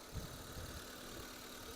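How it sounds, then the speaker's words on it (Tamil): A Maruti WagonR VXI car engine idles with a faint, steady low hum and light rhythmic pulsing, constant and unchanging through the short stretch. "இப்போ வண்டி ரன்னிங்கில் தான் இருக்குது. ஐடியில் ஓடிட்டு இருக்குது."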